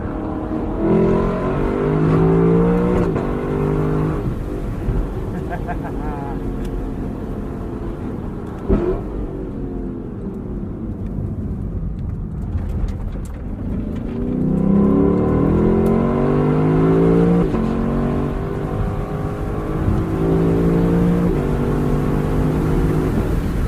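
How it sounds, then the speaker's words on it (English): A 2021 Lexus LC 500 Convertible's V8 engine revs repeatedly, its exhaust roaring up and falling back in loud, rumbling bursts, close by and without talk. "What you really want to hear is this exhaust."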